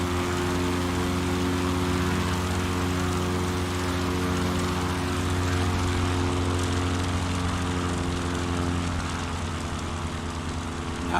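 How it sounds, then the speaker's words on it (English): A STOL bush plane taking off in a short-takeoff competition, its propeller engine a steady loud droning roar with strong low harmonics, holding constant and close throughout with no talk. "Nice front takeoff."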